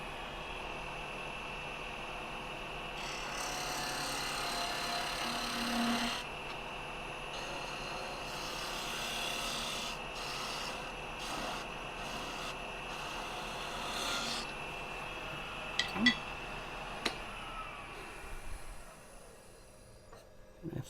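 A skew chisel shaving a small wooden hair pin spinning on a lathe: steady, continuous scraping and rubbing at close range with a few sharp ticks near the end, no talk.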